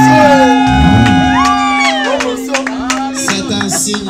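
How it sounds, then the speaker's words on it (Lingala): Wedding guests at a Congolese ceremony cheering loudly, with overlapping shouts and whoops, scattered claps, and a steady music tone underneath, close and energetic throughout. "Acclamez plus fort."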